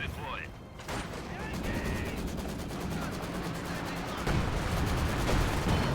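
Battle gunfire from Company of Heroes 2 ground fire, a steady stream of rapid shots and low booms at mid distance, running throughout under a commentator's voice.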